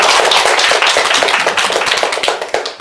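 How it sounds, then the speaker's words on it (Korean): An audience in a meditation centre lecture hall claps for a book publisher at a course's closing session, a close, loud flurry of hand claps that thins out toward the end. "박수 한번 쳐주세요"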